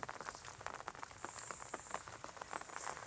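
Rain falls on a farm field of pea crops, a faint, steady patter of drops with scattered sharper ticks and no voices.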